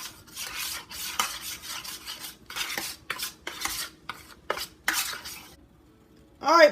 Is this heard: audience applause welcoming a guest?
no